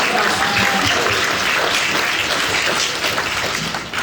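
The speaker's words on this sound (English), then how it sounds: "Give her a round of applause" A panel discussion audience breaks into dense, sustained applause that stays loud throughout and tapers slightly at the end.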